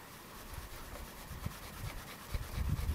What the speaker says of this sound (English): You keep rubbing.